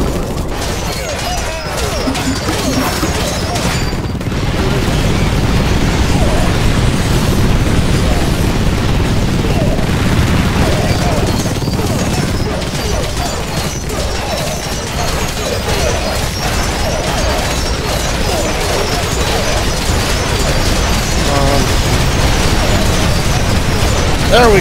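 Mortar explosions in the video game Infested Planet, a loud continuous barrage of booms and crashes rolling through the whole stretch with no let-up, under occasional talk.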